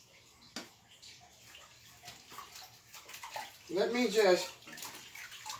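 Tap water runs over harvested cucumber spears being rinsed for pickling and canning, swelling into a louder splashing gush near the end while a person speaks softly.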